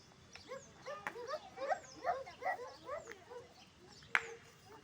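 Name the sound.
dog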